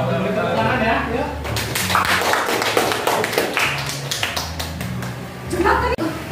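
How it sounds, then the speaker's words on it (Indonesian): A classroom group claps after finishing a presentation, a burst of dense, fairly loud applause lasting a few seconds amid voices. "Tepuk tangan ya."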